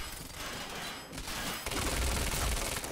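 Dense, continuous gunfire and explosive noise in the action game Quantum Break, a loud sustained barrage that swells toward the end with no clear gaps between shots.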